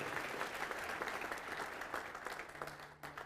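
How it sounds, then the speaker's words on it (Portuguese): Enthusiastic applause from a church congregation during an evangelical service, a steady wash of many hands clapping throughout, moderately distant and unaccompanied by speech. "Vamos aplaudir mais ao nome de Jesus"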